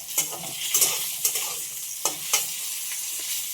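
Pointed gourd (potol) sizzles in a little oil with mustard and coconut, a steady close frying hiss broken by several sharp spatula scrapes and stirs against the pan.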